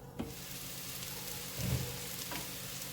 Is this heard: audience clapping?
no